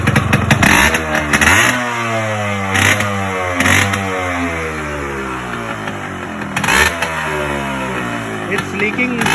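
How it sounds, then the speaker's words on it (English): Yamaha RX 100 two-stroke motorcycle being rebuilt, with a gasket leak at the front, revved in several close, loud bursts that climb sharply and fall back to a rough idle between them. "Let's give a couple of revs"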